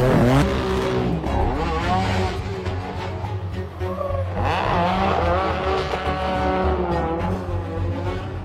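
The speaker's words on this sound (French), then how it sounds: "Il fera partir ce pick-up dans tous les sens." Pick-up truck drifting along a narrow mountain road, engine revving hard with rising and falling pitch and tires squealing as it slides, loud and close throughout.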